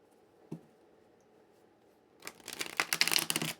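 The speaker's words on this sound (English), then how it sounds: "sorry about the shuffling" A quick riffle of tarot cards being shuffled, a soft flurry of papery flicks after a single tap and a moment of quiet, close by.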